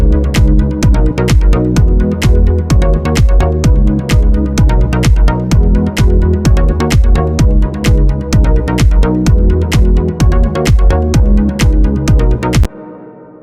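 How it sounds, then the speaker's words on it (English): A loud electronic music loop of a punchy kick drum, deep bass and a bright pluck synth in a steady, driving pattern, playing without voices until it cuts off near the end. "I've just got a kick and a bass and a pluck sound"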